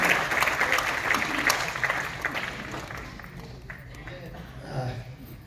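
An audience applauds in a fairly dense wash of claps that fades gradually toward the end, with speech faintly present beneath.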